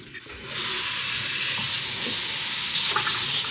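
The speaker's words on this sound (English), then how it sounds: "The water is boiling." Water rolling at a boil in a pot on a home stove, a steady broadband hiss and bubbling that holds loud and even after a brief quieter start, close by with no talking.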